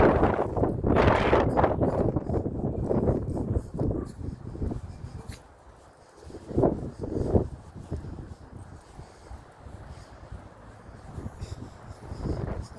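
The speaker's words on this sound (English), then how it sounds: "Windy." Gusty wind buffeting the microphone outdoors, a steady low roar that rises and falls with rustling throughout.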